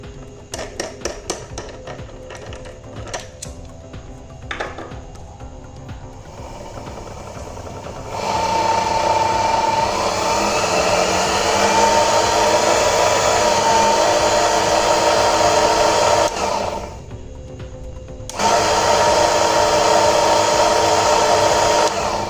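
A homemade mini table saw driven by a DC 795 motor with a speed controller runs with a steady, loud whine and hum. It starts after a few clicks, holds a sustained drone with a brief dip, then resumes at full level.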